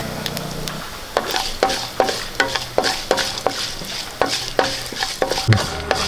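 Urad dal and cashew nuts fry in a hot pan for Kerala-style rava upma, with a steady sizzle broken by repeated sharp scrapes and clinks of a spoon stirring against the metal.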